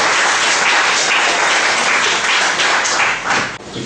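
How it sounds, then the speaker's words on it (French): Dense, steady applause from a conference audience at an integration day event, many hands clapping together at close range for nearly four seconds before tapering slightly at the end. "Le conférencier que je vous demande de l'applaudir très fort"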